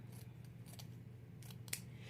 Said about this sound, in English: And then I just take my scissors